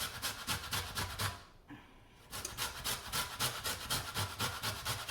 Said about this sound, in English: So let me go ahead and zest it some.